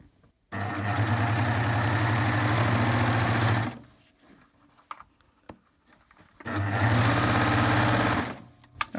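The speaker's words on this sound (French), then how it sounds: "là, je vais le passer à la surjeteuse" A Baby Lock serger overlocking an elastic waistband onto leggings runs in two steady, loud whirring bursts of about three seconds each, separated by a short quiet pause.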